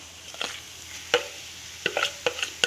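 A potato mixture is scraped and stirred into onions sautéing in a pan, heard as sparse, separate clinks and scrapes of a spoon against the metal over a faint, steady background.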